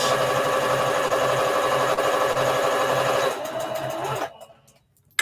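A sewing machine stitches through fabric in one steady close whirring run that slows and stops near the end, followed by silence.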